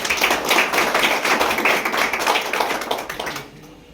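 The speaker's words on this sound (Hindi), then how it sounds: "तालियां बजाकर सर का स्वागत करता हूँ।" Audience clapping to welcome a guest at a yoga and naturopathy hospital event in Indore, a dense, steady patter of many hands close by that thins out and stops near the end.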